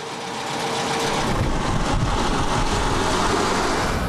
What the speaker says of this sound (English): It has a four-cylinder, 25-horsepower boxer engine built in behind the front axle.